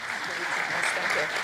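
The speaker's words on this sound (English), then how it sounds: "Let's give our panelists a round of applause." A brief burst of audience applause for panelists at an economic forecast forum, dense clapping from a seated crowd, steady and fairly loud for its short span.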